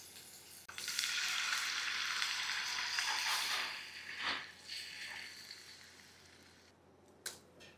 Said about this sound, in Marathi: हे छान खमंग भाजून घ्यायचं